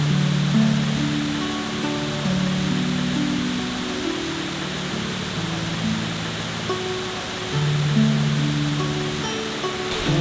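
Winter waterfall at Emery Creek Falls near Chatsworth, Georgia, heard from the top as a steady, loud broadband rush of falling water, constant throughout with no voices.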